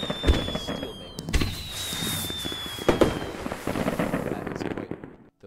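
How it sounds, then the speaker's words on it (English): Loud fireworks burst and crackle inside the Minecraft RotaryCraft mod, a string of sharp bangs over a few seconds with a high whistling tone drifting through, ending abruptly. "Those fireworks were quite loud"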